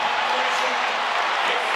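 A college basketball crowd roars steadily inside the arena during Marquette at Creighton. The dense, sustained cheering runs under a commentator's voice.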